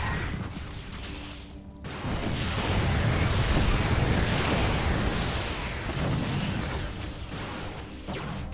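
Heavy booming blasts from a siege tank firing in StarCraft 2, a dense, continuous barrage of deep explosive impacts swelling loud after a brief lull near the start.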